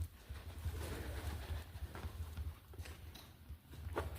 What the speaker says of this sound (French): il y a des pigeons